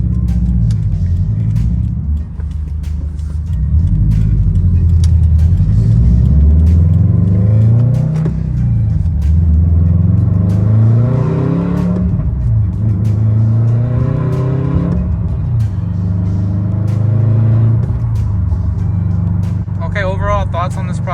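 A 2021 Subaru STI fitted with a Grimmspeed dry panel air filter, driven with a loud, steady engine drone and rumble that swells and eases as it revs up and down.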